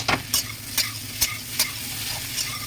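Elephant foot yam and other ingredients for a hilsa fish dish fry gently in a pan, with a soft steady sizzle under repeated scraping stirs of a spatula, about six strokes, close up, no voices.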